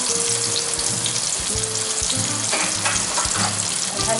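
Two medium, finely chopped onions fry in a pan for pulao, giving a dense, continuous sizzle close up with faint stirring and scraping underneath, and no voices.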